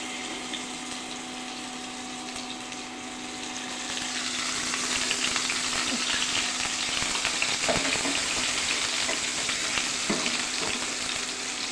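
Garlic paste fries and sputters in a hot pan, a steady crackling sizzle that swells louder partway through, with occasional stirring scrapes and no talking.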